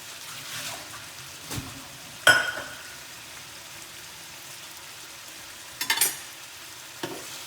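Carrots going into a frying chicken stew, with a low sizzle broken by a few sharp, brief clatters and stirring sounds spaced apart.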